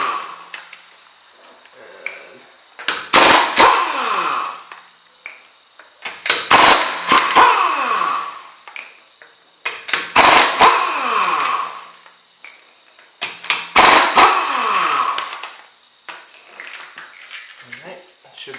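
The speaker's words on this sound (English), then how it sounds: "I'm going to get my air gun set up and we'll bust the wheel off here." Air impact gun spinning off the wheel lug nuts on a Nissan 350Z with a 21mm socket, firing in four separate loud, rattling bursts with short pauses between them.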